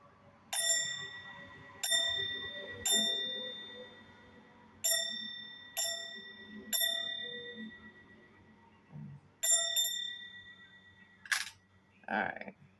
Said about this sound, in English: See, it has a little bell.